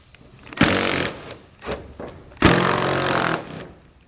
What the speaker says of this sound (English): we're going to be using a 13mm socket to remove them